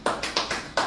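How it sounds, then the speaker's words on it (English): An audience at a talk gives a short burst of clapping, five or six distinct sharp claps in quick succession, close and fairly loud. "can we clap for him?"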